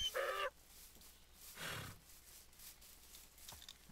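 Chicken clucking in the Farm Hunt video game, a short burst of clucks right at the start, followed by quieter game noises and a soft whoosh.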